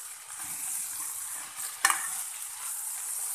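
Coriander chutney ingredients being lightly sautéed in a pan give a steady, soft hiss of sizzling oil, with one brief clatter of stirring partway through and no talking.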